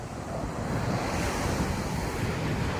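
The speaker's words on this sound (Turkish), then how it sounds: "Alanya'da deniz çok iyi. Tertemiz. Biraz dalgalı" Waves rolling onto the shore of a slightly rough sea at Alanya on a cloudy day, a steady close roar of surf mixed with wind noise on the microphone and no talking.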